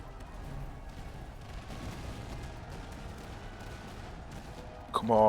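Artillery and gunfire in a strategy video game set in a battle against British infantry, forming a dense, steady rumble of distant booms and shots, with a brighter musical or interface sound cutting in at the very end.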